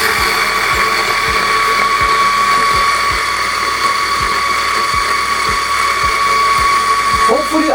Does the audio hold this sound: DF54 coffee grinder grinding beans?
yes